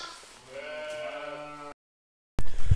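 A ewe out in a field during lambing season gives one drawn-out, wavering bleat up close, followed by a short silence and then a burst of loud rustling and handling noise.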